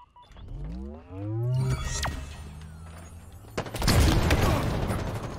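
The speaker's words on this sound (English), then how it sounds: "Where'd that rocket go? Because it looked like it exploded on me." Rocket explosions in the shooter game Halo Infinite, with a sweeping whoosh, a sharp crack, then a loud booming blast and rumbling debris, layered over other game sounds.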